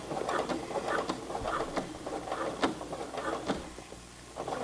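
A Brother PC 420 sewing machine stitching a heavy Levi's jeans hem, a steady close mechanical chatter of rapid needle strokes with soft rhythmic thumps, running continuously with a slight dip near the end; no talking.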